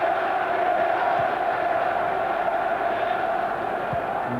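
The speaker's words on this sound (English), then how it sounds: "And one man the Highbury crowd have taken to in a big way is Patrick Vieira. They're chanting his name, they're willing him a goal." Highbury football crowd at an Arsenal match against Sheffield Wednesday, a steady, dense wall of massed voices chanting in unison, sustained and continuous throughout without a break.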